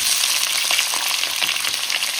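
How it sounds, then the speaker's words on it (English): Steady, loud sizzling of potatoes frying in hot ghee, a dense crackling hiss throughout with faint stirring. "Now that the ghee is warmed up, I will be adding cubed potatoes"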